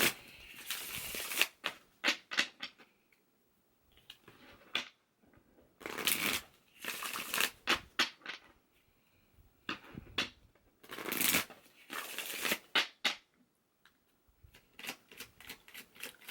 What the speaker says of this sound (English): Let's pull some clarification cards here.